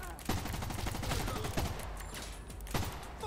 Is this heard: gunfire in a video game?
yes